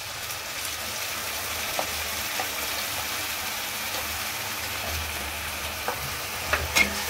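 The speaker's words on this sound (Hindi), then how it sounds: "हमारा मसाला इसमें फ्राई हो जाए अच्छी तरीके से" Masala spices and tomato frying in a pan for chana dal sabji, a steady close sizzle with soft stirring scrapes and a few sharp spatula clicks near the end, no talking.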